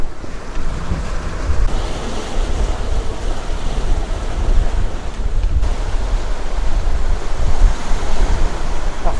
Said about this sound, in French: Les vagues claquent sur le côté tribord.